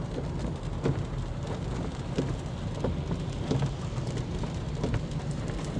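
Steady rain pours throughout, a dense continuous hiss with scattered heavier drops spattering nearby; no voices.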